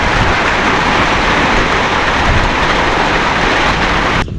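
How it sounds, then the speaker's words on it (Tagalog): A passing rain shower falls on a farm, a dense steady hiss of rain close by that cuts off abruptly at the end, with no talk. "Dadaan lang yung ulan na yan."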